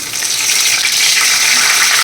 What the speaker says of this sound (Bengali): দেখো তেল গরম হয়ে গেছে, তেলের মধ্যে দেবো জিরে আর তেজপাতা।